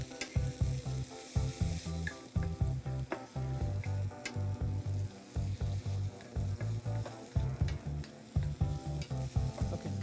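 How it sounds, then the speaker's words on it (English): Food sautéing in a pan with steady, close sizzling, overlaid by frequent rhythmic stirring and scraping strokes, with no voices. "we'll give that about a minute or so to saute"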